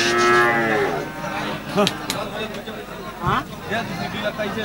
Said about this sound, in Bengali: দেখেন আবারও যদি দেখায় দেয়, খুবই সুন্দর গরু।